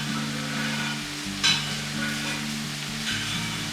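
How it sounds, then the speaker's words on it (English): Green onions being folded into sautéed vegetables in a hot pan, with a close, continuous sizzle broken by a few brief scraping stirs and no talking. "Fold the green onions into the sautéed vegetables."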